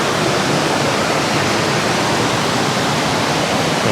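The Palakkayam Thattu waterfall in Kannur roars as a constant, dense rush of falling water, loud and close, with no break and no voices.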